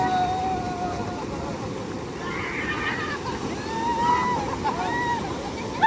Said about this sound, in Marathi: ही लाट लय मोठी होती